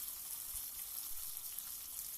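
Fish frying in hot oil in a pan, a steady, soft sizzling hiss that stays even and fairly faint throughout, with no voices.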